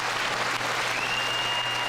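A large audience applauds steadily at a State of the Union address, a dense continuous wash of clapping throughout.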